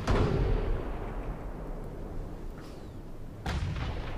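Naval gunfire in Ultimate Admiral Dreadnoughts, a heavy booming shot opening with a long rumbling tail, then a second loud blast about three seconds later.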